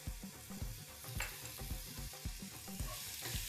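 Green chilli pickle frying in mustard oil with vinegar-soaked ingredients in a pan: a close, steady sizzle broken by repeated scraping stirs, no voices.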